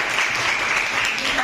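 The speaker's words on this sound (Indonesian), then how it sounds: "boleh tepuk tangan untuk" Short burst of classroom applause in an Indonesian school civics lesson, a steady wash of clapping from students that runs the full length without a break.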